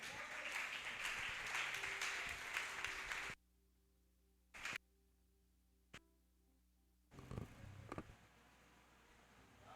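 A congregation applauding in a church during a service, a dense burst of clapping for about three seconds that cuts off abruptly, followed by near silence and then a shorter, fainter round of clapping.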